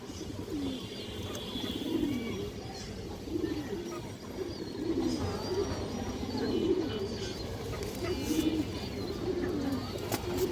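A large male pigeon coos repeatedly nearby, soft throaty calls recurring in a steady rhythm over a faint background.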